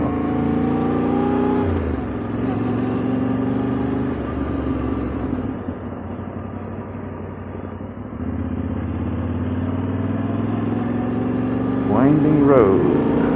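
Motorcycle engine droning steadily while riding a winding road on the Mid-Atlantic Backcountry Discovery Route, with a brief shift in pitch near the start and a rising rev near the end; the sound is continuous and close.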